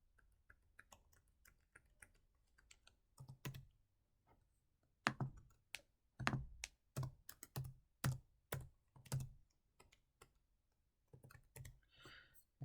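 Typing on a computer keyboard, with sparse keystrokes at first, then a quick close run of crisp key clicks in an uneven rhythm, quiet and with no voices.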